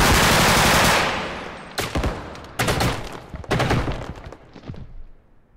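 Loud automatic gunfire in the first-person shooter game Bodycam, starting with a dense sustained burst and then breaking into several shorter rapid bursts separated by brief gaps, close and harsh.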